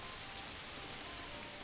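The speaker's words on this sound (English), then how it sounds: "Look, it's raining." Rain falling in the medieval city-building game Manor Lords, a soft, even patter and hiss of drops on surfaces, faint and continuous without any voice.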